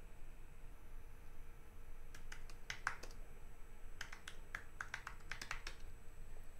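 Quiet typing on a computer keyboard while entering a command-line command, two short clusters of light key taps against a faint steady hiss, with no talk.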